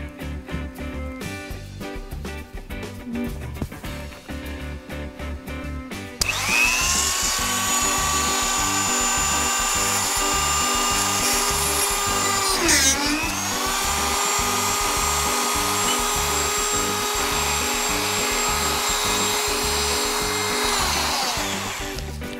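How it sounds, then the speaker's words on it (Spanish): A Dremel rotary tool drills a hole in brass sheet: a rattling start, then a loud, steady high-pitched whine that dips briefly under load midway and continues to the end. "la punta donde vamos con el Dremel, acá está, a abrir el hueco"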